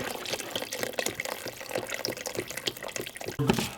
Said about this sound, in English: go ahead and add about a half a box of your beef broth